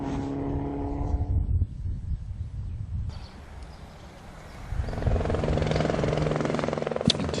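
A helicopter thrums overhead at a rally stage of the 2016 Circuit of Ireland, its rotor chop rising from a distant drone to a loud, close, steady beat with no talk over it.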